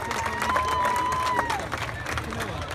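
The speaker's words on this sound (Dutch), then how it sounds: "En groot applaus voor Margot" An audience at a charity performance at an amusement park claps steadily throughout, a sustained patter of many hands, with a voice and a brief tone heard over the applause.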